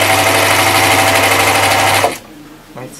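An overlocker sewing machine runs in a steady, loud whirring stitch for about two seconds, then stops abruptly, leaving quieter room sound and a brief faint voice.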